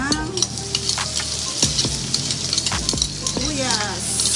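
Onion frying in a pan for bagoong (alamang shrimp paste) gives a loud, steady sizzle close up, with repeated scraping stirs and a few clinks of a utensil against the pan.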